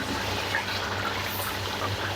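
A steady pour of milk into a pot of palak gosht, a continuous liquid rush that stays close and fairly loud throughout, with no talking.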